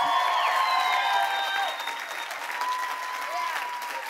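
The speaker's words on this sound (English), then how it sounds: "Louder and louder. Somebody give it up for Jesus." Church service audience applauding loudly in a sustained wash of clapping, with cheers and shouts mixed in, easing slightly toward the end.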